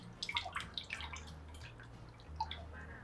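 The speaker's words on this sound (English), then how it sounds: "pour it through a sieve to catch any lumps of egg" A custard pudding mixture of egg and liquid is poured through a sieve for Japanese purin, giving soft, irregular drips and trickles that sound close and quiet.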